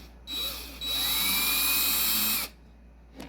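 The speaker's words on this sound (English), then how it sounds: "let's get my trusty drill, and I'm just going to" A handheld power drill, used to install a wheelbase extender on a skateboard, spins up for about two seconds with a steady high whine after a brief first burst, then stops; a faint short squeak follows.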